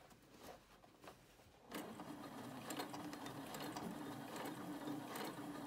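A sewing machine stitches a sleeve-head seam, running steadily from just under two seconds in after a few isolated clicks at the start.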